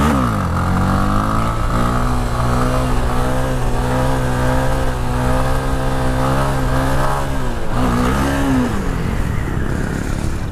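A 2018 Honda Twister 250 motorcycle engine revs hard on the street, its steady throttled drone climbing and wavering in pitch, dipping briefly near the end before rising again, loud and close with no voices.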